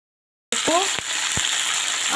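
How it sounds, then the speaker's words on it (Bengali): Broccoli sizzles in hot oil in a pan, with a steady, close frying hiss that starts abruptly and continues, punctuated by a few brief clinks. "প্রথমে আমি ব্রোকলিগুলো হালকা করে ভেজে নেব।"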